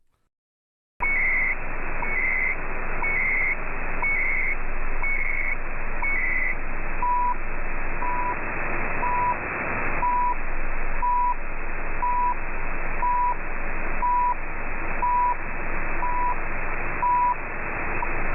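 Steady shortwave radio hiss carries the CHU Canada time signal: short, evenly spaced beeps, first higher-pitched pairs, then single lower tones ticking about once per second.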